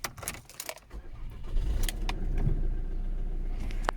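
Car keys jangle in short metallic bursts near the start, followed by the low rumble of a 2004 Ford Mondeo TDCi diesel starting and idling close by.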